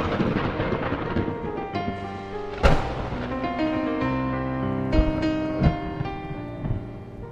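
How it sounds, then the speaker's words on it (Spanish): A thunder clap from a lightning strike, sharp cracks and heavy rumbling rolling through a stormy scene, with several loud booming peaks over a sustained low roar and layered tonal background sounds. "chasquido del trueno."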